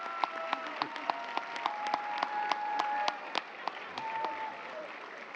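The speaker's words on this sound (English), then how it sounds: "Would you all please, at this time, stand so we can applaud you?" Audience at a high school graduation ceremony applauding, a sustained crowd clapping with sharp individual claps standing out, moderately loud and reverberant in a large hall.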